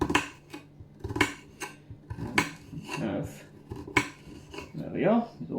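A kitchen knife chops garlic into small pieces on a cutting board for lasagne, giving a string of close, sharp taps in an uneven rhythm with short pauses between bursts.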